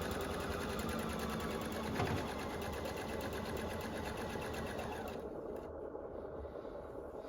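A domestic sewing machine stitches through a large quilt, its motor humming steadily and close for several seconds before easing slightly near the end.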